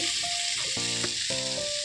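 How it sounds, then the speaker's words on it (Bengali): Oil sizzles and crackles steadily as potatoes fry in a pan, with a few clinks of a utensil stirring. "এখন আলু ভাজা করছি"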